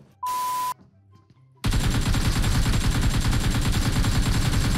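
Rapid automatic gunfire in PUBG Mobile: a dense, loud, continuous burst of shots that starts abruptly after a short electronic beep and a quiet pause, with no talk.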